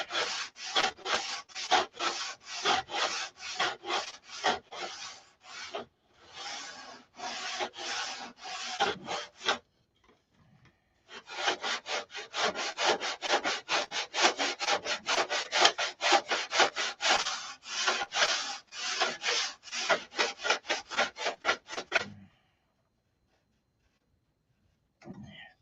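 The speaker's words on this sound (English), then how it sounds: "I'll continue to sand here." Rhythmic rasping strokes of hand sanding on a wooden TE-style guitar body on a bench, fast steady back-and-forth bursts with a brief pause, loud and close, then silence at the end.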